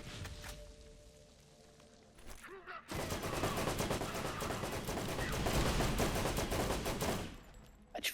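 Gunfire and grenade blasts in the video game Borderlands: a dense, sustained barrage of overlapping shots and explosions, fairly loud, after a quieter stretch with faint movement sounds.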